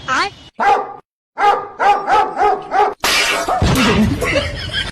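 A dog barks in a series of loud, close woofs with short gaps, then a noisier, more rasping burst near the end, set in a comic scene about keeping chicken away from the dog.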